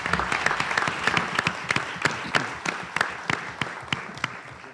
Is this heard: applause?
yes